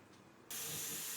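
A pressure cooker cooking soaked green peas suddenly bursts into a loud, steady steam hiss halfway through, after a quieter low simmering background, continuing strongly to the end.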